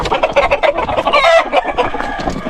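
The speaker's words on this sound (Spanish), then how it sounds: "Pero yo creo que son gallos." Roosters and chickens crowd a coop in Pereira, Colombia, clucking and squawking loudly and close by in an overlapping, restless chorus, with one drawn-out crow-like call in the middle.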